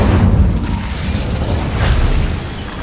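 Bombarda spell detonating in Hogwarts Legacy, a loud, close blast with a deep booming body and rumbling tail that holds for nearly three seconds.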